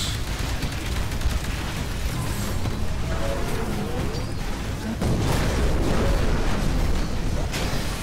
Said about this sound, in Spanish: Ahí ha estado lanzando una explosión nuclear.